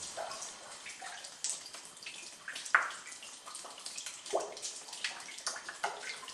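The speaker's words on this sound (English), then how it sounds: "the dripping water constantly collects and created what they call the wishing well" Water drips and trickles inside a lead mine cavern, collecting in a small pool behind a stone wall, with scattered irregular drops splashing nearby over a soft, echoing wash.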